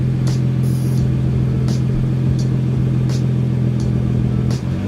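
BMW 335i with the N55 engine idling steadily with a deep, close drone before a downpipe install, with faint ticking accents above the engine hum.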